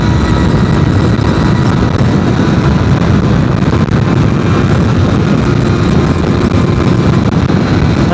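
A Modenas ZX-4R SE motorcycle in fifth gear near top speed, its engine a loud, steady high-revving drone mixed with heavy wind rush, continuous without a break.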